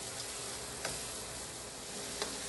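Onions and Rotel tomatoes cook down in a pan with a soft, even sizzle, faint and steady, with a couple of light ticks of a utensil.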